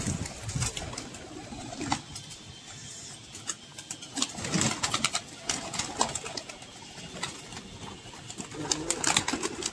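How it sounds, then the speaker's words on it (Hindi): Pigeons coo in soft, repeated throaty bursts close by, mingled with rustling, fluttering and scattered clatter over a low engine-like hum. "दो कबूतर लगे।"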